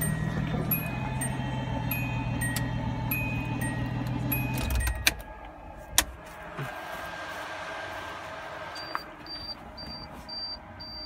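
A 1982 Datsun 280ZX Turbo idles with a low, steady hum, then the engine cuts out abruptly, leaving a few sharp clicks and a repeating electronic warning chime in the quiet cabin.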